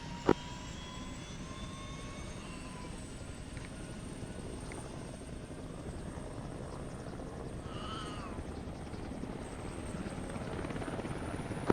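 In ArmA 3, a helicopter's engine whines and drones steadily as it spools up, a broad continuous roar with a rising turbine tone, heard from inside or nearby.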